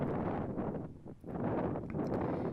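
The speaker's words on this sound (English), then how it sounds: "It's so windy." Strong wind roars and buffets the microphone in loud gusts around St. John's, Newfoundland, easing briefly before surging again, with no talking.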